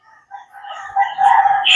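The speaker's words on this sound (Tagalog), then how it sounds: "At pati yung talak ng manok, kuha-kuha." A rooster crows close by on a rainy morning, a single rising call that swells and holds loud to the end over steady rain.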